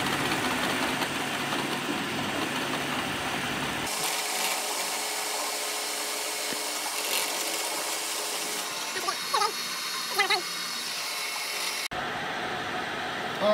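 A CNC mill spindle runs a machining program with a steady mechanical hum and whine. Its tone shifts a few seconds in, light cutting scrapes follow, and the sound drops sharply near the end.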